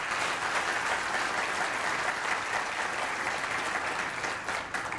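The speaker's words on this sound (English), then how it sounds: "I think you deserve a round of applause too." Applause from the audience at a 2012 MDIS-OCU graduation ceremony, a dense, even wash of clapping that holds for several seconds and eases slightly near the end.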